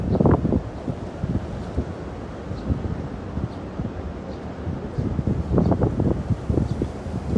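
Gusty wind rumbles against the microphone in bursts, stronger at the start and near the end, with no clear voices.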